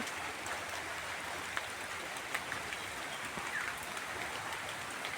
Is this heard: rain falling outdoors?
yes